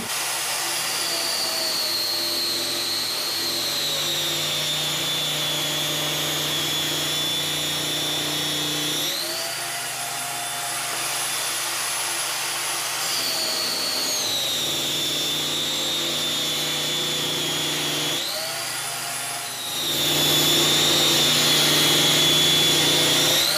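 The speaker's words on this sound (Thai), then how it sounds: "แต่นี้ผมก็จะสาธิตการกลึงไปด้วยเลยนะครับ" Wooden dowel spun and shaped on a woodworking lathe in a carpentry workshop, a steady loud motor whine with shifting pitch as the cut changes, dipping briefly twice before surging louder at the end.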